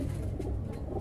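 A pigeon coos softly and close by in a brief, low, throaty burst with no voices over it.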